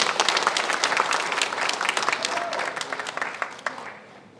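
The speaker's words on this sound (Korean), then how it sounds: "하나님께 영광의 박수 올리겠습니다" Church congregation applauding together during an all-generations Sunday service, a dense, steady wash of many hands that holds strong and then gradually tapers off toward the end.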